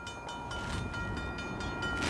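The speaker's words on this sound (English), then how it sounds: "here's our train that's switching that was on the other end of the town. Here it comes." A switching freight train on an Iowa line approaches, giving a steady, fairly loud rumble with faint rhythmic clatter that swells slightly toward the end, with no voices.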